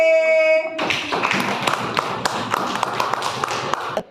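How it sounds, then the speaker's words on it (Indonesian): A group of elementary school pupils in a classroom claps their hands together after a short held musical tone. The sharp taps come in a brisk, slightly uneven rhythm for about three seconds, then stop abruptly. "Ya, tepuk tangan kelompok B."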